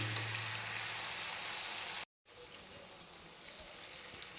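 Chicken being fried down with spices in a pan, a steady hiss of sizzling oil, moderately quiet and close, cut by a brief gap of silence midway before the sizzle resumes.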